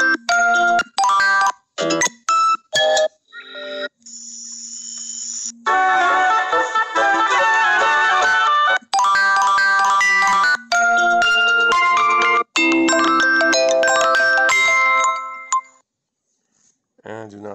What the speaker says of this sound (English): And then we have the alarm ringtone.